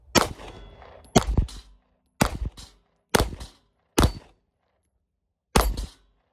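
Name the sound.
gunshots from .32 H&R Magnum pistol shooting plates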